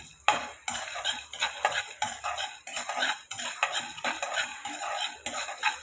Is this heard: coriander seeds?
yes